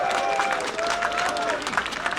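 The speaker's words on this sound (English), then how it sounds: "Can we all give a huge round of applause to Ellington Band?" A crowd applauds a brass band at a Christmas bell-ringing event in Morpeth; brief, busy clapping with a sustained tone lingering beneath it, moderately loud and close.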